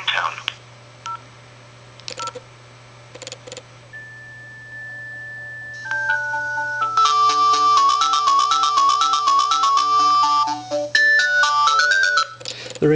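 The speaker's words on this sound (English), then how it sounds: "The ringtones themselves are quite loud." A Motorola FONE F3 mobile phone plays a few short key beeps and a sustained tone, then a loud, bright polyphonic ringtone melody of stepping electronic notes that fills the last several seconds.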